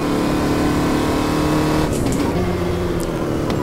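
Formula Vee race car engine in the Reiza Studios racing game, at Buenos Aires, droning steadily at high revs throughout, loud and continuous, with a brief upshift-like change near the middle and no talk over it.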